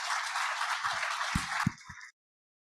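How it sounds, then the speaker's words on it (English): A short burst of applause from a small group, steady clapping that stops abruptly after about two seconds, with a few louder claps near the end. "Let's give him a round of applause for that."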